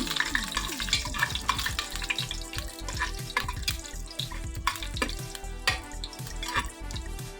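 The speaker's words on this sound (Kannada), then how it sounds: "ತುಪ್ಪನೂ ಎಣ್ಣೆ ಬಿಸಿಯಾಗಿದೆ ಹಾಗಾಗಿ ಇದು ಪಲಾವ್ ಸಾಮನ್ನ ಹಾಕೋಬೇಕು" Whole pulao spices dropped into hot ghee and oil on a low flame, crackling and sizzling loudly up close with frequent sharp pops and a busy, bubbling texture throughout.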